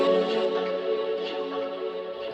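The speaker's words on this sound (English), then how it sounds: "And then I added a vocoder underneath." Vocoder layered under a vocal sample in a melodic house track gives a steady, buzzy, chord-like synthetic voice texture, moderately quiet and heard on its own.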